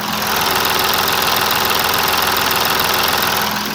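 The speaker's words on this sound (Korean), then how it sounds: "네, 엔진음 정말 정숙하게 잘 들려지고 있습니다." Diesel engine of an Audi A7 50 TDI (facelifted model) idling steadily with the bonnet open, a continuous even hum with a faint rhythmic knock, heard close and alone without talk.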